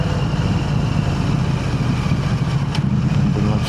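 A KTM 890 Adventure R motorcycle fitted with an Arrow exhaust idles at a waterside spot near an airport, its steady low rumble close and continuous without any revving.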